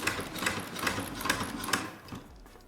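A hand-cranked sewing machine stitches in close, rhythmic mechanical thumps and clatters, roughly two to three per second, easing off toward the end.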